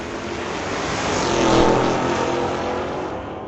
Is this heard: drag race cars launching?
yes